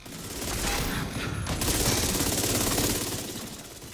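A Striker-build character in The Division 2 lays down sustained automatic gunfire, a dense, loud, continuous rattle of rapid shots with no pauses.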